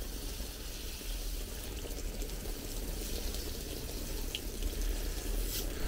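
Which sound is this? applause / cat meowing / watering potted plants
watering potted plants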